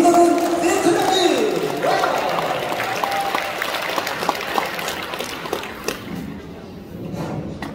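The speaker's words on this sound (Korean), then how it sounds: "우리와 같은 함성과 박수 부탁드리겠습니다" A crowd at a 2022 volunteer conference in Seongnam breaks into applause and cheering, loud at first and gradually tapering off, with a few thumps mixed in.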